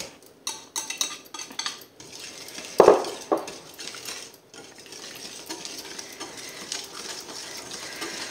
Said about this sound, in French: Ensuite, on ajoute les œufs et on fouette.